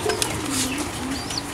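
Pigeons offered for sale coo in short low murmurs with a brief wing flutter near the start, close and fairly loud, with a faint higher chirp near the end.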